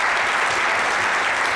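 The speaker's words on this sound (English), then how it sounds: "a big round of applause for her" A hall audience at a TiE Mysuru fireside chat breaks into a dense, loud round of applause, continuous many-handed clapping filling the room without a break.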